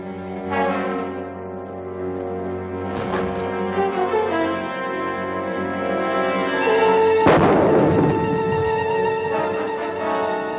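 Hand grenade explosion in an old black-and-white film serial, a booming blast around seven seconds in that stands out over a sustained orchestral score, with an earlier thud near three seconds.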